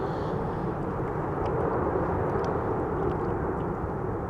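Airliners landing at Amsterdam Schiphol Airport in strong, gusty wind: a steady, loud, broadband roar of jet engines and wind noise fills the whole stretch without a break.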